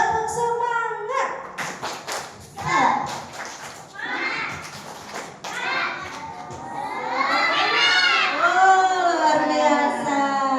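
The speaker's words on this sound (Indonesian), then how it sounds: "Ya, kita tepuk semangatnya dulu ya. Coba tepuk semangat." Children at an Islamic school day program do the rhythmic tepuk semangat spirit clap together, chanting and shouting loudly between bursts of clapping, with a leader's voice calling it.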